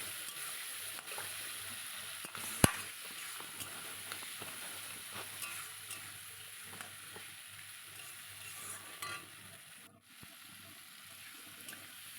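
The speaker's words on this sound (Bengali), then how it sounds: "দেখো চার পাঁচটা কাঁচা লঙ্কা দিয়ে দিলাম ভালো করে মশলাটাকে এবার কষিয়ে নেবো" Spice paste with four or five green chillies being sautéed in oil for a tangra fish curry, giving a steady low sizzle and hiss throughout with a sharp clink near the start and faint stirring scrapes.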